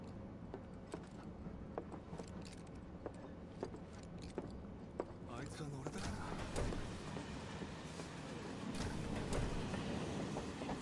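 A moving train in Final Fantasy 7 Remake rumbles and clatters steadily at a low level, with faint rhythmic clicks over the tracks and muffled voices in the background.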